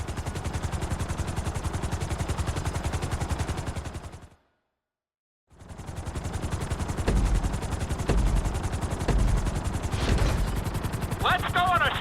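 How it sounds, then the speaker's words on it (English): A helicopter's rotor chops rhythmically and loudly in GTA V flight school, cutting out to silence for about a second before resuming with thuds and a few high electronic tones. "we're going to put you in a helicopter for this lesson"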